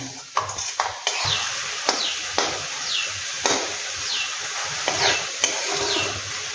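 Methi (fenugreek) leaves cook in a pan over a raised gas flame as the water boils off, giving a steady close sizzle broken by repeated sharp spoon clinks and scrapes against the pan.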